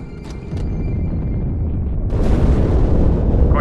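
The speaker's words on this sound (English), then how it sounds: "That explosion came from inside the Athens, same as the Malta." A deep rumbling blast in the Halo 2 Cairo Station level, a loud low boom that swells and thickens into a broad roaring wash in its second half, with no voices.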